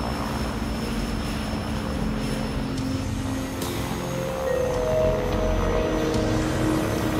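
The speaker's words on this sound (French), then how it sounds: "L'hydravion appartient à Irène Dornier, le petit-fils du célèbre constructeur d'avions" A Dornier propeller seaplane drones overhead in flight, its engines producing a steady, moderately distant hum that swells slightly louder toward the end.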